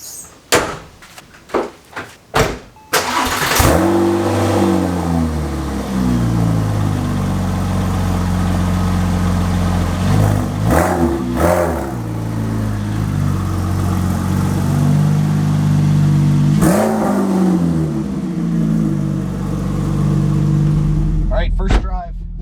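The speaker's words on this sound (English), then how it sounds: "First drive with the new exhaust." Porsche 911 Turbo with a new straight-piped exhaust, starting after a few door thuds and settling into a loud, steady engine drone with several sharp revs rising and falling.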